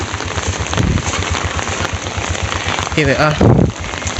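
Steady rain falls on a road in Entebbe, Uganda, as a constant close hiss. A voice speaks briefly over it near the end.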